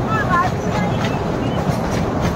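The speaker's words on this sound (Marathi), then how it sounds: "ही ट्रेन आपल्या स्टेशनवर पोहोचली आहे" A train rolls into a station near the Elephanta Caves, giving a steady, loud rumble with a close, continuous rolling drone throughout.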